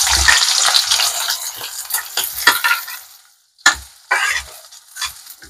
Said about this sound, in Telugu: ఆయిల్ వేడైందండి, కొంచెం జీలకర్ర వేస్తున్నాను, కొన్ని ఆవాలు, కొన్ని వేసానండి